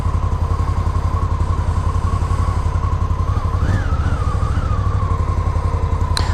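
A 2016 Victory Octane motorcycle idles while it warms up, holding a loud, close, even V-twin thump with a brief rise in revs midway before it settles back to idle.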